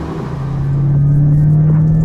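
Mercedes W210 E55 AMG car driving past, a loud low engine drone rising in strength and holding steady, with road rumble underneath.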